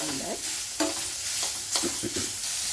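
Radish being sautéed with salt and turmeric powder, a soft sizzle under brisk scraping and stirring strokes of a spoon against the pan, near and moderately loud, without speech.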